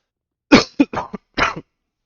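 A short fit of coughing and throat clearing, several rough bursts in a row, close and loud against silence, during a CS:GO esports match broadcast.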